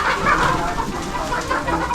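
Kadaknath chickens cluck and chatter continuously at a farm, a dense, busy flock sound with overlapping calls throughout.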